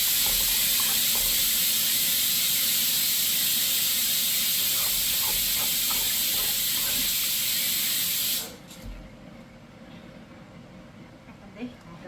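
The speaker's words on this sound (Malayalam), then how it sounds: "നമ്മുടെ കുക്കറിൽ ഒരു വിസിലായി ഓൾറെഡി അപ്പം എന്നാ പറയുന്നത് അപ്പം അതിൻ്റെ വിസിലങ്ങൾക്ക് കേൾക്കാം" A loud, steady hiss of steam escaping a pressure cooker, which cuts off abruptly after about eight seconds, leaving a quiet room.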